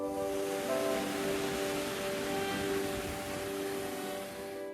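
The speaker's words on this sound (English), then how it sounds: "we've just come across some waterfalls" Water tumbling over small waterfalls on a hill walk at Llyn y Fan Fawr in Wales, a steady broadband rush that holds even and unbroken throughout, with no voices.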